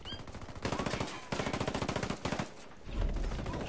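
Gunfire in the Ghost Recon video game, rapid bursts of automatic rifle fire in several strings with short pauses, loud and close, ending in a heavier low thump.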